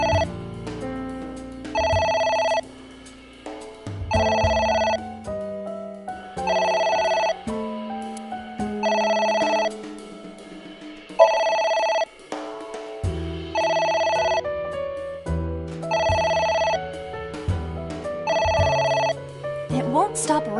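A telephone rings repeatedly in the video game AI: The Somnium Files, its electronic bell bursts pulsing in a steady rhythm over low musical background tones, loud and close, with no talk.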